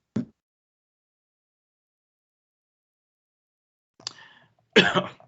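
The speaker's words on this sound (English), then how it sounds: "I think he's got a bit of a cough." A single quick cough, then a pause and two more close coughs, the last one the loudest, with silence between.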